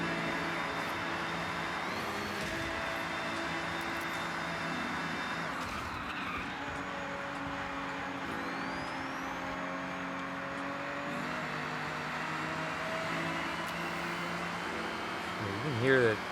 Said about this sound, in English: You can hear the turbos whining on that Supra from way back here